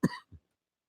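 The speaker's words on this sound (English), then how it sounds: "Open up the microphone and have a coughing fit." An AM radio host coughs once on air, a sharp close burst followed by a brief low throat-clearing grunt, then silence.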